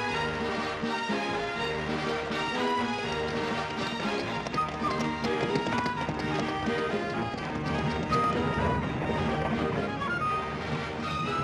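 Horses' hooves clip-clop in a steady galloping rhythm beneath a loud, dense wash of orchestral music that dominates throughout.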